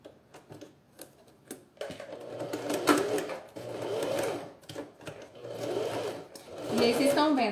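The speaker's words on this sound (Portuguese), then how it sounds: "Tô costurando aqui tranquilamente na máquina doméstica." Domestic sewing machine stitching a synthetic leather wallet in short, uneven bursts of rapid needle clatter, close and moderately loud, separated by brief pauses and light handling clicks, with a person talking at times.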